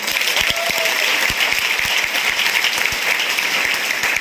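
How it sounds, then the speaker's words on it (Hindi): Sustained, dense applause from an audience honouring the platform, a steady crackling wash of many hands clapping at once, close and full with no talk over it. "जबरदस्त ताली होना चाहिए प्लेटफॉर्म के लिए"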